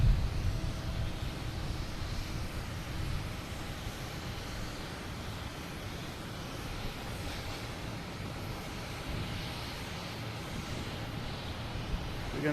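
An Alaska Airlines airliner in Kraken livery lands at Boston Logan, its engine roar a steady, broad, fairly distant rumble that holds evenly without a clear peak.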